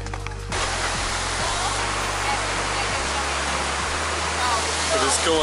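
A waterfall roars loud and steady close by, a dense broadband rush of falling water that fills the whole clip, with faint voices underneath.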